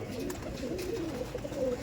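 Pigeons in a loft cooing in soft, continuous low murmurs, several birds overlapping close by with no break across the short stretch.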